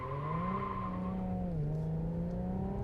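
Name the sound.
Infiniti Q60 3.0T twin-turbo V6 accelerating in sport mode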